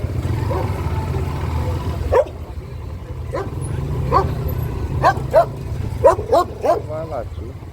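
A dog barks and yips in repeated sharp bursts that quicken toward the end, heard over a low engine rumble during a roadside stop on a small-displacement motorcycle trip, with people talking nearby.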